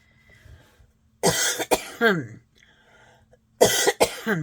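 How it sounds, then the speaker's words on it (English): Two bursts of coughing, a pair of quick coughs followed after a pause by another loud cough, close to the microphone with quiet room noise between. "Now I'm going to cough."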